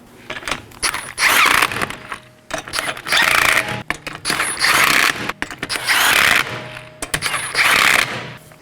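A ratchet with a 19mm socket snugs lug nuts on a 2018-2024 Chevrolet Equinox, making four close, loud bursts of rapid clicking separated by short pauses.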